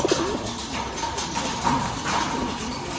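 Pigeons coo softly in a loft of birds kept for sale, a few low, rolling calls rising over a steady hum of background noise.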